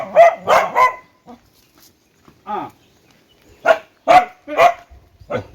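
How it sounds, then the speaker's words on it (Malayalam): Two or three dogs at a house bark loudly and close by, in a quick cluster of barks, a pause with a couple of single barks, then another rapid burst. "രണ്ടുമൂന്ന് പട്ടികളുണ്ട് കേട്ടോ."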